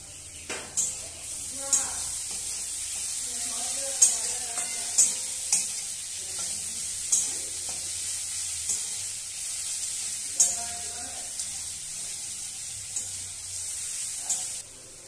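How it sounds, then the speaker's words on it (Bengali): Grated ginger sizzles in a pan while a utensil stirs and scrapes it at regular intervals, steady frying hiss under repeated scraping strokes, with someone talking softly at times. "এবার দিয়ে দেবো গ্রেট করা আদা।"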